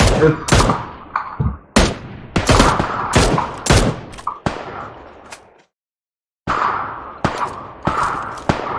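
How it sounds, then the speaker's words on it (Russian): PUBG Lite gunfire: sharp, loud single shots and short bursts crack out irregularly, with echoing tails between them and a brief silent gap before the firing resumes. "Тут еще стреляет"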